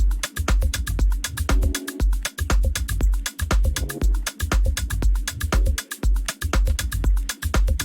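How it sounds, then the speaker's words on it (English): A punchy organic house drum groove with a steady four-on-the-floor kick, crisp hi-hats and claps, plus short synth blips between hits, loud and continuous. "So our drum sounds in total sounds like this."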